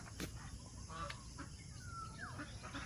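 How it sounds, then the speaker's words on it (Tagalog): Hens clucking softly in a farmyard, with a few short calls and chirps over steady outdoor background noise. "Yung mga alaga natin manok oh."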